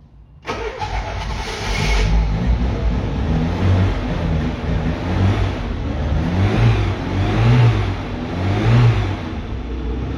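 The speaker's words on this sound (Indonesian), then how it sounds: "Mesinnya masih halus bos. Mesinnya masih halus." A used 4x4 car engine starts and runs with a steady low rumble, rising in a few repeated revs, close and loud throughout.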